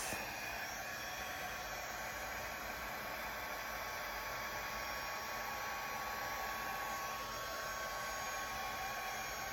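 A hair dryer blows air across a painting canvas in a continuous, steady, even whoosh, close and unbroken for the whole stretch, with no talk.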